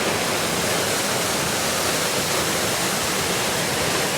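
Channat waterfall at Satkund, a dense, unbroken roar of falling water that is loud and close, with no voices.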